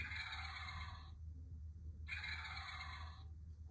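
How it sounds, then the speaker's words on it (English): Two loud, rattling gobbles from a wild turkey, each about a second long, separated by a short pause over a low background hum. "This is also a wild turkey."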